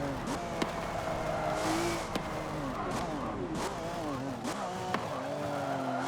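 Race car engines from a Forza Motorsport 7 prototype group race, steady revving with shifting pitch and tire squeal throughout, continuous and fairly close.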